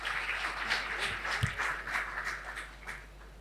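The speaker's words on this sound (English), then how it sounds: "Please, a round of applause for him." Audience applause at a panel event on Nigeria's post-oil economic future, a steady wash of clapping at moderate level that carries evenly through the room without fading.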